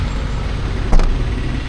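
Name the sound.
Skoda Kylaq heavy boot closing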